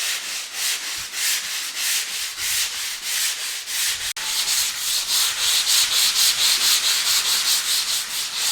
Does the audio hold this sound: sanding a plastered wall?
yes